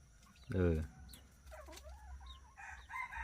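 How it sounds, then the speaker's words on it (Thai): A rooster crows once loudly and close at a rural yard, a short strained crow followed by softer clucks and bird calls, with a voice talking in the background. "ตัวนั่นแหละตัวเมื่อกี้ขันนะ"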